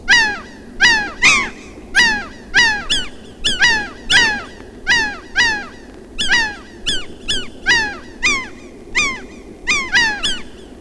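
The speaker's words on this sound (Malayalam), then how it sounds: "നിങ്ങളുടെ പരീക്ഷണ നാളിയിലൂടെ കടന്ന് പ്രതിധ്വനിച്ച ശബ്ദം എന്താണെന്നറിയാമോ അതൊരു കിളി ചിലച്ച ശബ്ദമാണ്" A bird in a film scene chirps in sharp, repeated calls, a steady series of loud bursts roughly every second, with no voices over them.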